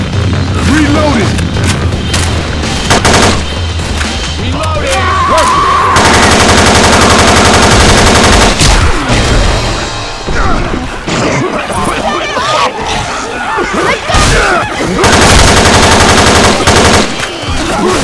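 Rapid gunfire and bursts from the co-op zombie shooter Left 4 Dead 2, dense and loud throughout with weapon reload clatter and players talking over the action.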